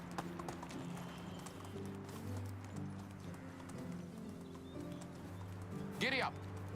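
A horse in the medieval survival game Medieval Dynasty gallops with rhythmic clip-clop hoofbeats throughout, ending in a short whinny, with speech over the game sound.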